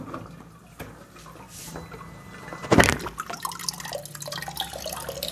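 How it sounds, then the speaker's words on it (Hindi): Water runs and drips into the tank of a Voltas water dispenser fitted with a non-electric float valve, a steady trickle with a brief louder splash partway through, close and alone. "इसमें पानी आना शुरू हो जाएगा।"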